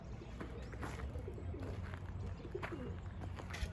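Arab-breed pigeons cooing near a loft, soft low throaty calls over a continuous outdoor murmur, with faint flutters and movement mixed in at moderate distance.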